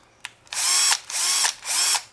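A power drill bores holes for a homemade zipline brake, running in three loud, sustained whirring bursts of about half a second each, preceded by a short click, close to the microphone.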